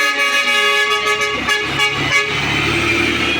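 Street traffic in Oroquieta City, with tricycles and other vehicles, rolls past close and loud while a vehicle horn gives a sustained toot over the engine rumble.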